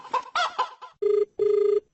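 A rooster sound effect plays on a radio prank show: a few quick clucks, then two sustained, buzzing crow-like tones, all close and loud, with no talking.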